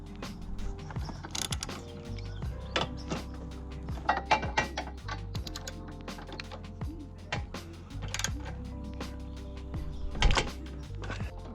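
16mm bolts are removed from a crash bar bracket on a MK6 Golf R, likely with a power tool, in close, repeated whirring bursts mixed with clicks and metallic clanks.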